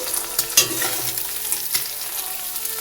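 Eggs frying in a pan for egg bhujia for fried rice, a steady close sizzle with bursts of spatula stirring and scraping against the pan, no voices.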